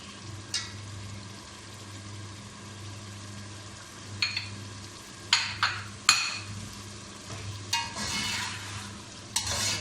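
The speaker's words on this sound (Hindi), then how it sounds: "इसको हम 5 से 10 मिनट तक भूनेंगे" Meat for a simple beef-cut curry sizzles in a pan while soy sauce is stirred through, a steady low frying hiss broken by several sharp scrapes and clinks of a spoon against the pot.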